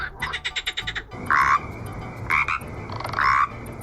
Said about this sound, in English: I needed frog sounds for Ribbit and the froglets